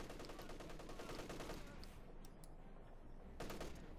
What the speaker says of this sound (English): T-34 firing away there.